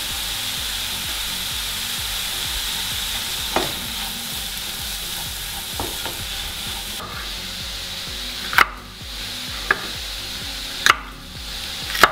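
Garlic sizzles and fries in a hot pan for a soup, a steady hiss with a few sharp clicks and scrapes of a utensil against the pan, no talking.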